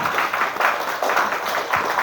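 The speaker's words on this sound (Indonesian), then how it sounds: "Tepuk tangan untuk narasumber kita" A room of people applauds a guest speaker at a teachers' session, dense overlapping clapping in steady waves throughout, moderately loud and indoors.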